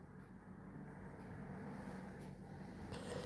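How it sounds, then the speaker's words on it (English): A single car passes by outside, a steady broadband road rumble that swells gradually and peaks near the end without fading away. "A car just went past and it sounds a bit different."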